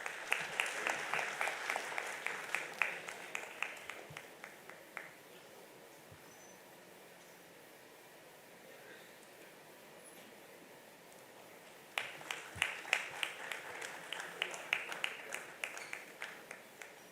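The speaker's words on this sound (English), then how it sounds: "Can we have a huge round of applause?" At a national cost and management accountants' convention, an audience gives a round of applause, a patter of clapping that fades to a quiet lull and then swells again, fairly distant and soft.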